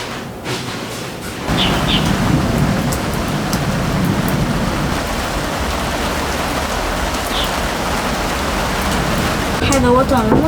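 Steady, dense rainfall hisses throughout a rainy day, with a faint distant rumble suggesting thunder; brief voices appear near the end.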